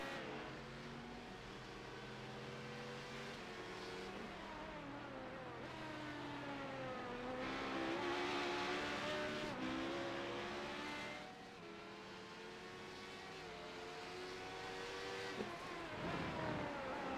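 A sports race car in a video game race holds a steady high engine drone through a lap, pitch rising and falling with gear changes and throttle, loud and continuous without talk.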